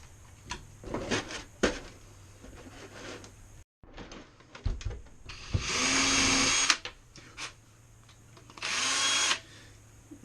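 A drill bores holes in the body of an Axial Ridgecrest RC rock racer, giving two loud, short whirring bursts amid scattered handling clatter and pauses at close range.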